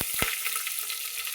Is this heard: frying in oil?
yes